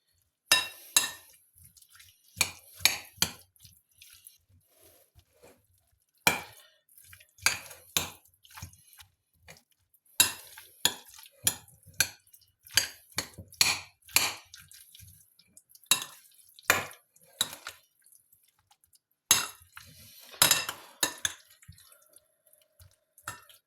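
Crab salad being mixed in a bowl, utensils clinking and tapping against the dish in irregular clusters of sharp clicks, close and fairly quiet, separated by short silences.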